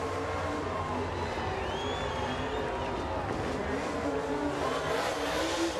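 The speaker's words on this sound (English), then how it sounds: "Can you do a burnout in a dirt car?" A dirt race car attempts a burnout at a feature race, its engine roaring and tires churning, heard at moderate distance over steady crowd noise and background chatter for several seconds.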